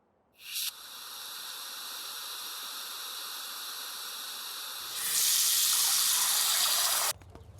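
A water tap runs once a tank valve has been reopened: a steady hissing flow starts, then surges louder and fuller before cutting off abruptly near the end.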